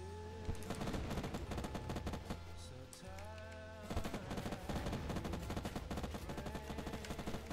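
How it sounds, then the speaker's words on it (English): Rapid bursts of automatic gunfire in the Fortnite video game crackle in dense volleys, pausing briefly midway before resuming even more heavily, with no speech over the shooting. "wait, the guy's shooting"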